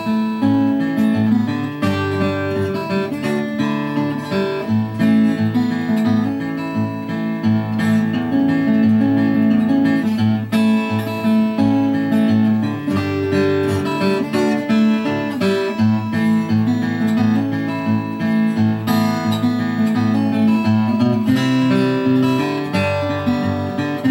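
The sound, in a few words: acoustic guitar playing song in A, drop D tuning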